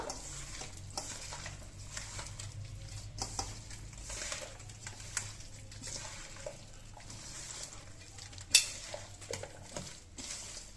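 A chicken curry being stirred and mixed in a pot, with wet sloshing and scraping plus scattered clinks of a spoon against metal, close by, with one louder clank near the end and no talking.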